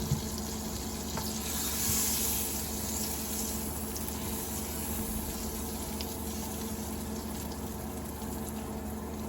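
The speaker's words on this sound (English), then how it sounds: "Melting the butter down" Butter melts and sizzles in a frying pan before eggs are cooked. A soft, steady crackling hiss runs quietly and continuously throughout.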